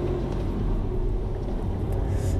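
Subaru WRX STI with a 2.5-litre turbocharged boxer engine, 300 hp and manual gearbox, driven on the Bilster Berg track, heard as a steady, loud, low engine drone and rumble with no talking.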